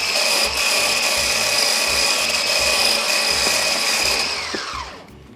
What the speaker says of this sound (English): using my beater, I'm going to beat this until it's stiff peaks